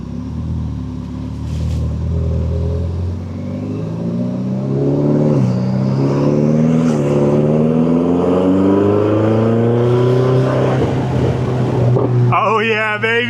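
A Ferrari 488 engine revs loud and close, its rumbling tone climbing steadily in pitch over several seconds before cutting off abruptly.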